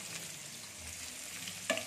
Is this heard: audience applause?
no